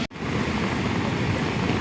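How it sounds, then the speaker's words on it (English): The flooded Beas river near Manali roars in a steady, loud, broadband rush after a brief dropout at the start, with the dull thumps of boulders moving in the water not clearly picked out. "you can hear the thump of big boulders moving about in the water"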